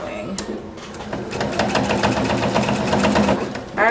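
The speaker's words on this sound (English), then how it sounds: "I tucked that back in place and continued sewing." A sewing machine stitches binding around a round object, a steady rapid mechanical whirr running through the clip with a quick stop and start near the beginning.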